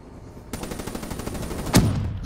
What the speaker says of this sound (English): I was shooting at it